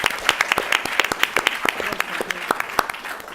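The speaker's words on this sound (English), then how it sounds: "A round of applause, please." An audience at a policy panel on Mexico's telecommunications reform gives a round of applause: sharp individual claps overlapping in a moderate, uneven patter, fairly close and lively, tapering slightly toward the end.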